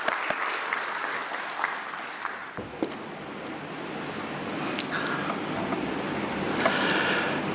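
A crowd at a stock exchange listing ceremony for Deccan Healthcare Limited claps for its managing director, a steady, moderately distant wash of applause that builds slightly toward the end.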